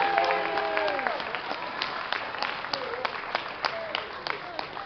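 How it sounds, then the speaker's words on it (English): An audience at a comedy show gives a round of applause, a dense wash of many hands clapping that gradually thins and fades, with a voice talking over it and sharp laughs or shouts poking through. "Let's give him a nice round of applause"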